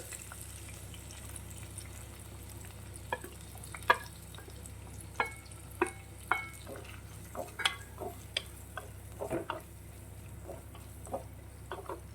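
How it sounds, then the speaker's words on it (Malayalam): Chopped shallots and onion frying in hot oil, giving a steady low sizzle with scattered crackles and pops throughout, close and fairly quiet, with no voices. "എണ്ണ ചൂടായപ്പോൾ കൊച്ചുള്ളിയും സവാളയും കൂടെ അരിഞ്ഞത് നമുക്ക് ചേർത്ത് കൊടുക്കാവേ"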